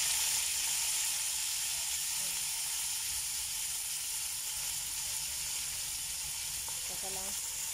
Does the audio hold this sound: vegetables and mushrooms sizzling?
yes